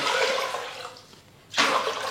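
Water pouring steadily into a pot of rice for rice vadam, a continuous rushing splash that drops away briefly and then returns just as loud, with no talking.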